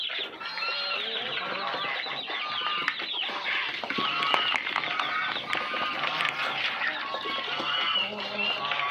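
Free-roaming backyard hens and young chicks cluck and chirp continuously close by, several birds calling over one another in a busy, dense chatter with a voice talking faintly in the background.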